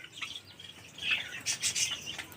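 Caged lovebirds with nesting material give a run of quick, high, fairly soft chirps and tweets, the calls clustering and growing busier toward the end.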